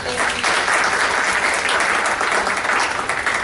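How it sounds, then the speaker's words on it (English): An audience at a quarterly refugee services task force meeting in Orlando applauds steadily, a dense, even round of clapping that holds at a constant level throughout. "applause, please."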